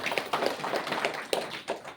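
Audience applause at a morning session of a spiritual talk gathering, a short burst of many hands clapping in an irregular patter, moderately loud and fairly close, with no voices over it.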